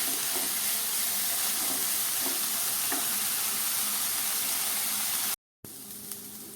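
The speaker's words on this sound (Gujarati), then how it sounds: "મેથીને સૌ પહેલાં આપણે આ રીતે તેલમાં સાંતળી લઈએ" Fenugreek leaves (methi) sauté in hot oil with a steady, close, dense sizzle. It cuts out briefly near the end, then resumes more quietly.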